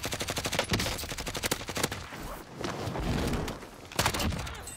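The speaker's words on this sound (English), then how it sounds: "I'm going to try, and while I'm in the air, to shoot this guy" Rapid bursts of gunfire in the battle royale shooter Warzone, a fast rhythmic volley at the start, scattered single shots in the middle and another burst near the end, loud and close with no talking.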